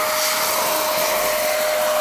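A handheld vacuum cleaner runs steadily up close, a loud continuous whine with a sharp tonal hum and broad airy rush, with no pauses.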